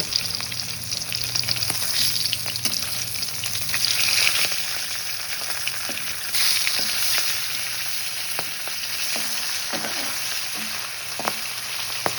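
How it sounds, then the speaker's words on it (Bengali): Petuk fish coated in salt and turmeric sizzle steadily in hot oil after being turned in the pan, a continuous close frying hiss broken by occasional clicks and stirring taps. "আমি মাছগুলো ভেজে নেব।"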